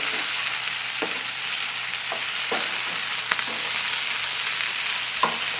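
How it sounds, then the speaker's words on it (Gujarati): Paneer cubes stir-fried with onion and capsicum in a pan: a continuous sizzle with several sharp scrapes and clinks of the spatula at irregular intervals, close and unaccompanied by talk. "પનીરને હવે આપણે કાંદા અને કેપ્સિકમ સાથે સારી રીતે મિક્સ કરી દઈશું."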